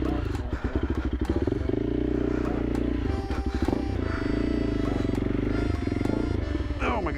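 Honda CRF 300L motorcycle (2024) with its rear wheel spinning, a loud continuous rough engine drone with rapid pulsing and clattering grit, a voice talking over it.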